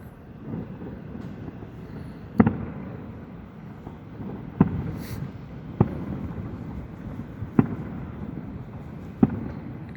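A fireworks display is heard from far away: five sharp, distant bangs arrive at roughly regular intervals over a low, steady background rumble.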